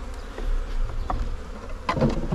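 Honeybees buzz steadily around an open hive at a busy apiary, a dense close drone with a few louder passes near the end.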